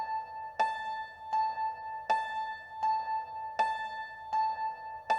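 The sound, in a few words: Youngchin library instrument from Contact, default sound, two notes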